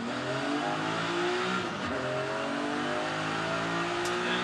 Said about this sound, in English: Too much wheel spin.